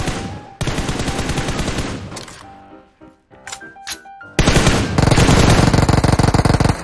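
Rapid video-game gunfire as players shoot zombies: dense automatic bursts, a short lull with scattered single shots and clanks, then a loud sustained volley to the end.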